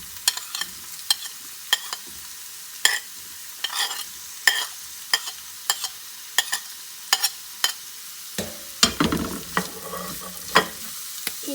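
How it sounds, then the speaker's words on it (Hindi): Bell peppers and carrots are sautéed in a pan with repeated sharp scraping and stirring clacks over a continuous soft sizzle. The stirring is fairly regular, then turns busier and more clattery near the end. There is no talking. "अब इसके अंदर हम लोग ये शिमला मिर्चें डाल देंगे।"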